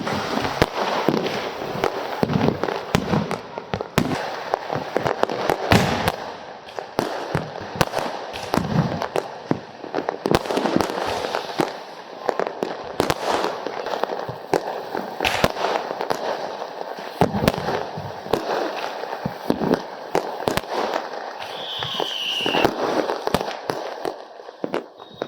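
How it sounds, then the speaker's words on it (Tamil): Firecrackers bursting in Sivakasi during Diwali, a dense continuous barrage of sharp bangs and crackling, loud and near, with rapid irregular pops across the whole stretch. "எங்க ஊர் சிவகாசியில வெடிச்ச வெடியை பத்தி தான் பார்க்க போறோம்"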